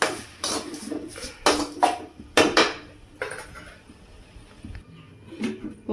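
Metal clanks and clatters of a lid being set onto a cooking pot of tomatoes simmering with salt for thotakura pachadi, several sharp knocks close up in a home kitchen with no talking.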